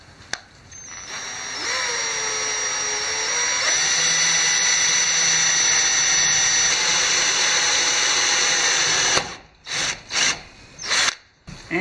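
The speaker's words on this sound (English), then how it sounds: "And then we'll drill that." A power drill bores a screw hole while rigging a whisker pole, its steady motor whine rising in pitch, holding loud and close for several seconds, then cutting off into a few short, uneven bursts as the trigger is pulsed.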